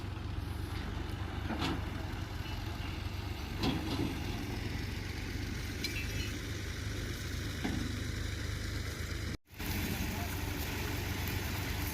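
A tractor engine idles steadily beside a wheat thresher during a village harvest in Punjab, a continuous low mechanical drone with faint clanks and a brief dropout near the end.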